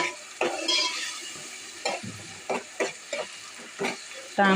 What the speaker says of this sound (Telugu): అవి బాగా వేగాలన్నమాట